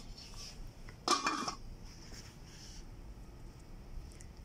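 Cooking pots handled in a housewares store, a short burst of metallic clinking and scraping amid quiet room background, with fainter knocks afterward.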